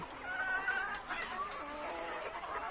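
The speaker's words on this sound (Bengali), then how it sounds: "আমার এই মুরগিগুলো অনেক বড়, খুব বড় সাইজের" Several chickens clucking softly at a distance, with a few higher calls over a faint steady background noise.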